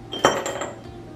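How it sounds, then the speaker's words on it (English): A single ice cube drops into a drink glass with a sharp clink and a short ringing tail, close and alone. "I'm gonna put a few ice cubes in"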